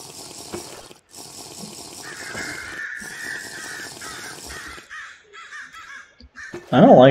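Birds caw repeatedly in RLCraft, a steady stream of harsh calls over a low background, ending with a sudden loud burst of noise.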